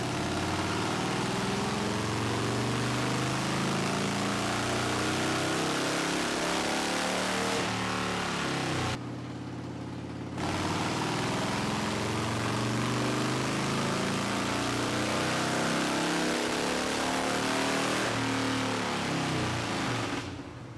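A Harley Sportster with straight pipes roars on a dyno, very loud and close. The rough, saturated exhaust blare is broken by a brief drop of about a second before it surges back and holds. No speech.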